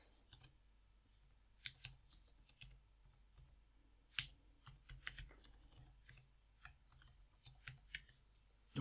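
Typing an email address on a computer keyboard: quiet, irregular bursts of crisp key clicks, close by and alone, with short pauses between runs of keystrokes.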